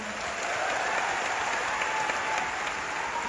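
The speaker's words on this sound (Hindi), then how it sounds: "एक बार उनके लिए जोरदार तालियां" Audience at a Forever Living Products success event in Delhi giving a round of applause, a dense, steady roar of many hands clapping together that holds at an even loudness throughout.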